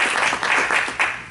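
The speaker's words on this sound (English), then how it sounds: "So please, let's have a round of applause." Brief burst of steady applause from a small business workshop audience, a dense wash of clapping that holds for about a second then begins to fade.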